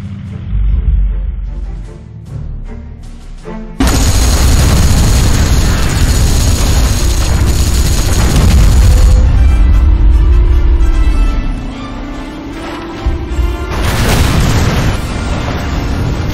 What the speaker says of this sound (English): have the howitzers order a creeping barrage to clear any potential threats